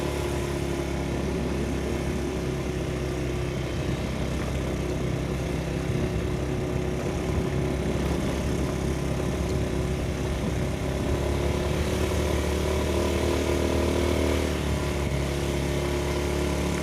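A motorcycle rides along a small, slightly uphill concrete road through a village, its engine a steady, close droning hum that continues without a break, with no talking heard.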